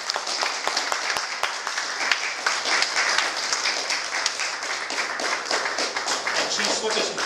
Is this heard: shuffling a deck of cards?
no